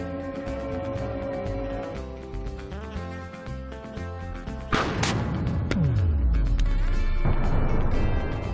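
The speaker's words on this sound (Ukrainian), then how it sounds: "Постріл відбувся з відстані 500 метрів." A T-64 tank gun fires a high-explosive fragmentation shell at a car from 500 metres, a single loud blast that cuts through steady music and then trails off in a long low rumble.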